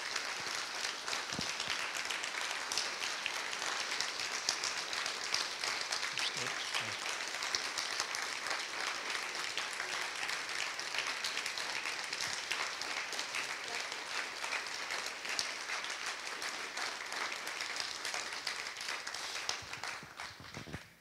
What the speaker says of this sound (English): Can we give Lisa a round of applause?